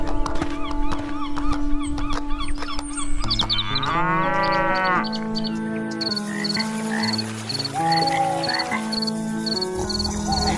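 A buffalo in an animated Hindi story gives drawn-out, low, throaty moos over a steady, droning musical backdrop.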